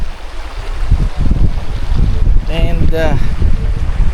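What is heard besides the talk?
strong wind outdoors at a riverside camp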